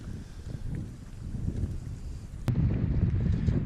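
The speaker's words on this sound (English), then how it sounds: "The wind is right today." Gusty wind on a lake during cold early spring bass fishing, buffeting the microphone in a steady low roar that grows stronger partway through, with a sharp click partway in.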